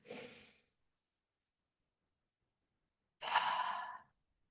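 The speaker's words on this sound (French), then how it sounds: "Grande inspire par le nez, grande expire par la bouche." Two deep breaths during a yoga breathing practice: a short soft breath at the start, then after a pause a longer, fuller exhale through the mouth, close and breathy with no talk.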